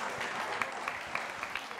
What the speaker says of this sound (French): On accompagne avec nos acclamations, s'il vous plaît.